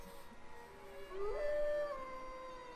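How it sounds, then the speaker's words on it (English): In the game Tales of Legendia, the creature Geet lets out a single rising, wavering howl that seems close by, sitting over soft background music. "That howl, what was that? No question, that's Geet."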